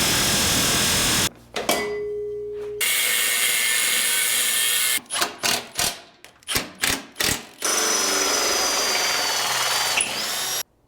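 Power tools drive bolts to fasten a rear bracket onto a 1977 C10 truck frame, with long whirring runs broken by a rapid series of short impact bursts, loud and close.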